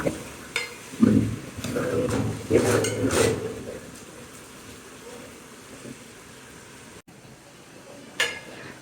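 Metal pots and utensils clatter and clink in a home kitchen while a curry is cooked, with several sharp knocks early on, then quieter rattles, under a voice talking.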